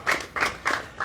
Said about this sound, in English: Yeah, we can clap for Victor.